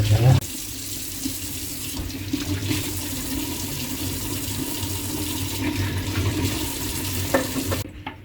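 Cleaned mackerel fillets rinsed under a running kitchen tap, a steady close splash of water pouring continuously over the fish in a sink, with no talk.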